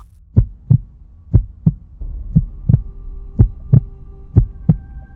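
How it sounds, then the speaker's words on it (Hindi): A fast heartbeat sound effect for a horror story thumps in loud, close paired beats at a quick, regular rhythm over a low humming drone. "आरव का दिल तेज तेज धड़कने लगा।"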